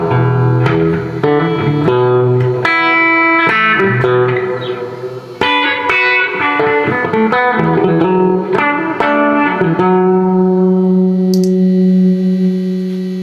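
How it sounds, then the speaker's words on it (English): Guitar played through a large hall reverb pedal on a pedalboard, single notes and chords ringing out with long, washy tails that linger and fade after the final sustained note, with no one talking. "Hall reverb has always been really my favorite, so it allows you to have that sort of hall reverb."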